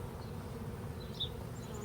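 Bees buzzing at a backyard hive of Russian hybrid cross bees, a steady close hum of wings with one louder bee passing briefly near the middle.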